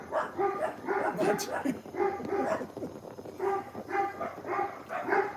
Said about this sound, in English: we're in the Philippines, hear all the dogs?